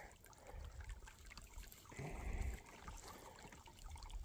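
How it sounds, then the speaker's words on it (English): Water trickles and splashes steadily into a cattle trough on a farm, a soft continuous flow that swells briefly midway, heard fairly close with no talk over it. "we're gonna fill up their water."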